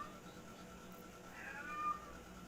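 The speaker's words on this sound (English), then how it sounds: "I don't know if you can hear my cat, but I guess he's concerned too." A cat meowing indoors, one brief faint meow partway through against a quiet room background, with no talk.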